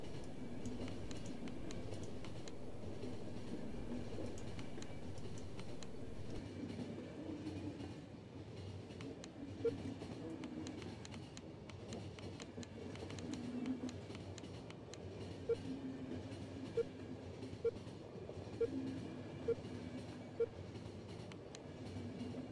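Train rolling steadily in The Final Station video game, a continuous low rumble of wheels and carriage with faint rhythmic clicks toward the end, no talk over it.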